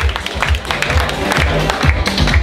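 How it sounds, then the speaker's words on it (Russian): Light clapping from a club audience at a magic show, a short scattered burst of hand claps at moderate loudness with a murmur of crowd noise beneath. "Легкие аплодисменты."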